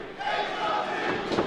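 A wrestling crowd at an independent show roars and cheers after a suplex, a dense, sustained burst of voices filling the hall.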